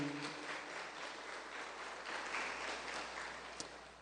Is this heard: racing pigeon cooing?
no